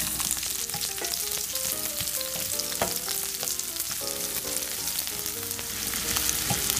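Garlic and onion sautéing in a pan for hotdog afritada, a steady close sizzle and crackle with faint utensil scrapes and clinks, no voices.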